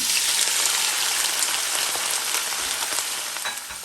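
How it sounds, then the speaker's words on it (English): Salt fish fries in hot oil with a dense, continuous crackle and sizzle, loud and close, easing slightly toward the end. "make sure that they're frying on both sides"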